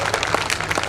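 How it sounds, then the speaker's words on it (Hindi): A short burst of audience applause at a Hindi comic poetry recital, many hands clapping in a dense, even patter at moderate volume, with no voices over it. "तालियां एक बार हो लीजिए।"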